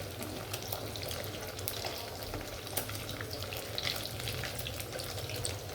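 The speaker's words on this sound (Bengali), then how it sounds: "আমি বেশি ভাজবো না, হালকা ভাজা দিব" Chickpeas, egg and paneer lightly frying in a pan, a faint, steady crackle and sizzle with small irregular pops running continuously, no voices.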